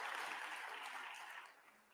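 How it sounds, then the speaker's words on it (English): Audience applause at a national dialogue convention in South Africa, a dense wash of clapping from a large hall crowd that holds steady and then fades toward the end. "let's give them a round of applause for having done all this work"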